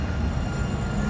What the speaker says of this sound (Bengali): metro train